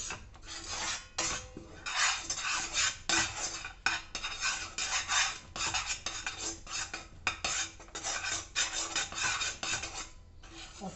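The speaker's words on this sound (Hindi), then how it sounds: "इसको लगातार चलाते रहना है" A spoon scrapes and stirs a sticky jaggery and puffed rice mixture in a kadai, producing continuous rhythmic rasping and clinking strokes, close and steady, with no talking.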